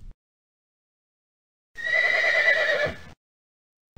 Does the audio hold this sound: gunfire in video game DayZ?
no